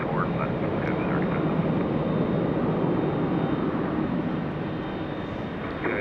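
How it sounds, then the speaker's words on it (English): An airliner taking off from runway 24 Left at Los Angeles International Airport gives a broad, steady jet roar that holds level throughout, with faint voices underneath. "RNAV to Del Rey, cleared for takeoff, runway 24 left, go 35."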